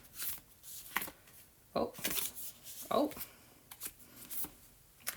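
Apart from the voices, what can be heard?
shuffling tarot cards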